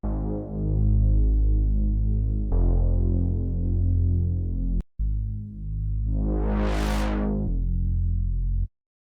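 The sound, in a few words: synthesizer bassline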